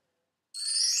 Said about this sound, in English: they are these typical light cymbals